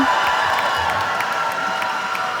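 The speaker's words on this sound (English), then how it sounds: "Cheering helps." Crowd at a FIRST robotics state championship in Michigan cheering and whooping, a steady wash of many voices filling an arena, loud and continuous throughout without a break.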